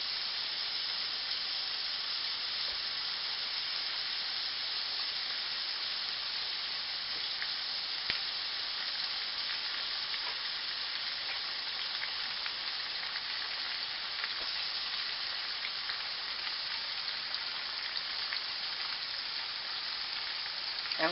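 Onions and peppers grill in a pan with melted butter, a steady close sizzle and crackle of frying that runs unbroken for the whole stretch, with small pops scattered through it and no talking.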